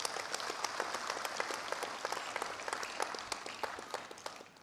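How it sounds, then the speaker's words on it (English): A large gathering at a public program breaks into sustained applause, dense and even clapping heard from a distance at modest volume, holding steady before easing slightly at the end. "Let us give everybody a huge round of applause."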